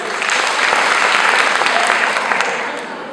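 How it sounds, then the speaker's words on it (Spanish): Audience applause at a literature course session, a dense, steady wash of many hands clapping close by, holding strong before easing slightly at the end. "Más aplausos."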